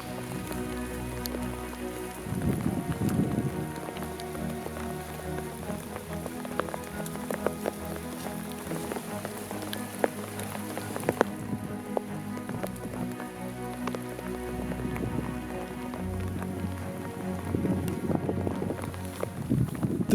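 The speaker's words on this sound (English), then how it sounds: "The rain pours down once more" Rain pours steadily outdoors on an Alaskan moose-hunting trip, a dense close patter of drops on surfaces with occasional wind buffeting the microphone and no talk.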